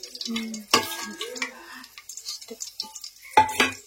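Whole spices such as cinnamon, cloves and bay leaf crackle in ghee and oil in a pot for biryani, with a spoon stirring and clinking against the metal in bursts, close up and with no talking.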